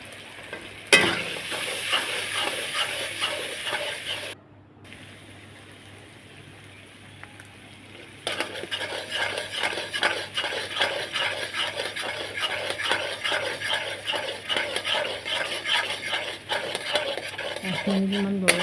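Ilish fish pieces with mustard seeds, salt, turmeric, chilli, cumin and coriander powders stirred in a pan, continuous frying sizzle under brisk rhythmic scraping and clinking of a utensil, with a short quiet gap partway through.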